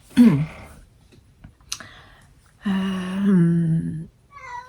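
House cats meow loudly and close by indoors, early in the morning while it is still dark outside, giving a few drawn-out cries separated by short quiet gaps.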